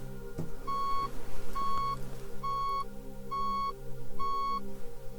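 Five evenly spaced electronic beeps, each a short steady high tone, sounding over a low background hum with no talking.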